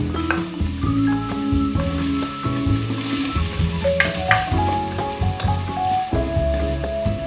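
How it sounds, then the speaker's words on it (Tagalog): Garlic and ginger sizzle loudly in hot olive oil, with a utensil stirring and scraping the pan in uneven bursts, close and without talk. "Nagisa ng konti, ilagay ko na yung bawang."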